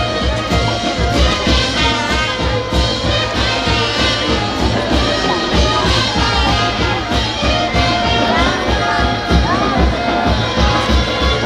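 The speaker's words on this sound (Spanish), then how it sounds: "Gracias, aplausos." Spectators at a bullfight in Querobamba applaud and cheer as one dense, continuous crowd roar, steady and loud throughout without a break.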